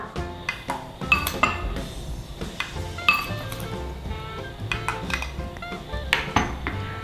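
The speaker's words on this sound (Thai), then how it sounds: "จากนั้นนะคะเราก็จะคนส่วนผสมให้เข้ากันก่อนนะคะ" A metal spoon clinks repeatedly against a cup or glass while stirring a cocoa drink mix of cocoa, non-dairy creamer and sugar, giving quick irregular chinks and taps up close, with no speech.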